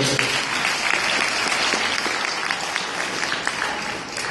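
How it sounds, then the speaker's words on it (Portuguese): Steady, dense applause from a crowd, loud and continuous throughout with no pauses. "Uma salva de palmas, por favor."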